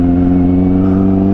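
A Kawasaki Z900 motorcycle in first gear during a drag race gives a loud, close engine roar with a strong, steady harmonic drone over a brief burst.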